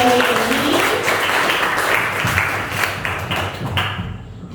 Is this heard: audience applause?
yes